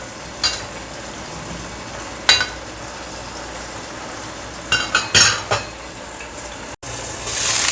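A spoon stirs food simmering in a pan as it boils in plenty of water, a steady bubbling sizzle with a few sharp scrapes and clinks of the utensil against the pan, close and clear with no talking.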